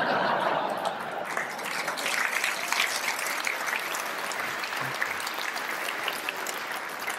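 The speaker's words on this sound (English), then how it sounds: "Thank you for clapping." Comedy-show audience applause fills the room as continuous, fairly loud clapping from a large crowd, with a few scattered chuckles mixed in and no speech over it.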